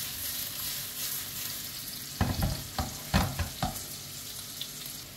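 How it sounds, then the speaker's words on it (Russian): Steady sizzle of eggplant frying in a pan, with a run of clattering stirring scrapes joining partway through, close up and without talk. "Ну, вот теперь вот так потихоньку и это жарим."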